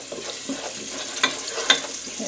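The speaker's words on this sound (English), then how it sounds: "so the garlic is sauteing nicely" Garlic sautés softly in a pan with a pinch of salt, giving a faint, steady sizzle with two brief brighter clinks or pops partway through.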